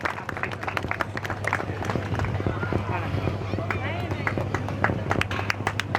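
Sustained applause from a ceremony audience at a religious havan festival, steady dense clapping throughout with crowd noise and a low hum, with someone speaking over it.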